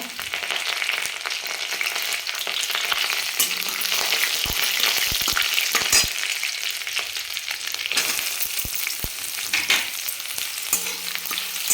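Large, coarsely chopped onion frying in a pan, a loud, close, continuous sizzle with intermittent stirring knocks and scrapes, easing briefly near eight seconds before resuming.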